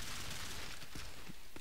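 Rapid M16 assault rifle gunfire in a PC shooter on the Overgrown map, a dense, continuous crackle of overlapping shots with sharp bursts standing out, loud throughout the short stretch.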